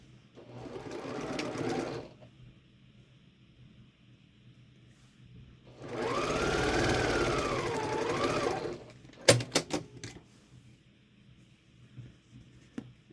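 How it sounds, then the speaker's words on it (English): A sewing machine stitches quilt block pieces together in two bursts, a short run then a longer steady whirring run, close and clear, followed by a few sharp clicks and taps in a quiet room. "sew these two, and then we'll put the rows together."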